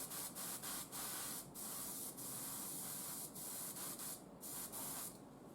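An airbrush sprays paint onto a miniature Imperial Knight model in a steady, close hiss, broken by several short pauses and stutters as the trigger is released and pressed again.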